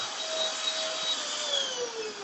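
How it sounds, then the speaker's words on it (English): A tiny handheld vacuum cleaner whirs steadily at close range, a continuous high-pitched motor hum with a slowly falling tone and no talking. "But a tiny little itty vacuum helps out."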